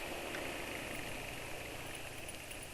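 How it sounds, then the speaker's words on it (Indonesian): A car engine idles roughly on its second day after an oil change, a steady low rumble with a faint vibrating hum, quiet and continuous. "hari kedua suara mesin udah kasar"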